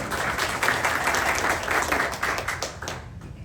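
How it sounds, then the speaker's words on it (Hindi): A church congregation at a Hindi worship service claps loudly, a thick stretch of continuous applause with pulsing claps that tapers off at the end. "जोरदार ताली बजाएं"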